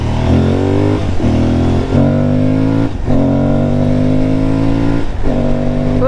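An Aprilia Tuareg 660 motorcycle engine accelerates hard and loud, its rising revving whine broken by quick shifts through several gears in a row.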